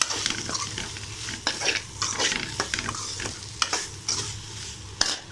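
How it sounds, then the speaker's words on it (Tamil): Chicken fries in a pan on low heat while a utensil stirs it, making repeated close scrapes and knocks over a continuous sizzle. No one speaks. "இப்போ நீங்கள் என்ன பண்ணுங்கள், சிம்மில் வச்சுட்டு நல்லா 2 பரட்டுங்க"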